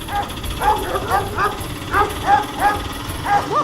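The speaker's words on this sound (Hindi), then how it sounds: "ये कुत्ते तो हमको खा जाएंगे" Cartoon dogs barking in a repeated series of yelps and barks, a fairly loud rhythmic run over a busy background.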